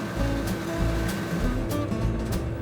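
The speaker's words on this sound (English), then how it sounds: "Look at the grain pouring out of my spout." Grain pours from a combine harvester's unloading spout into a farm wagon in a continuous rushing hiss, with a low machinery rumble beneath and a few brief louder surges.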